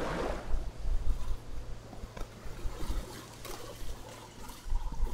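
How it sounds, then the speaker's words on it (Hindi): Water poured and trickling in Jurassic World Evolution 2, a fluctuating liquid splashing and dribbling that swells and recedes in irregular surges, moderately loud with no voices. "पानी तो पूरा डाल दो ले"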